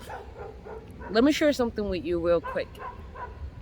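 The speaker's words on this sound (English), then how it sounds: "Sorry about the barking dog, man." Dog barking in short yapping bursts near the middle, under and between a man's speech in the foreground.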